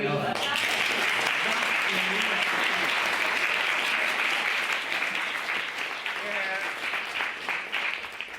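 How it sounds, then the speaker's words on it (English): A big round of applause fills a debate hall after the vote result, dense steady clapping from the whole audience that fades a little toward the end, with faint voices mixed in. "I want a big round of applause for that for you."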